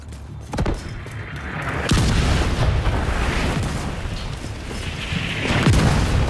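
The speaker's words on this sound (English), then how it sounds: "Mortars are coming from a mobile unit near the shoreline south of your position." Mortar explosions at Coney Island Ballpark in The Division 2 video game, shelled from a mobile launcher near the shoreline, deep booms landing one after another with sharp cracks and a rumbling, lingering roar between them.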